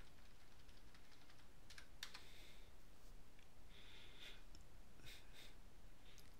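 Computer keyboard keys tapped in a few quick bursts with short pauses between, faint and close over a steady background hiss.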